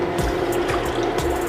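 Beef broth pours into a crockpot for a slow-cooker beef and broccoli dish, a steady close trickle and splash lasting a second or so with no talk over it.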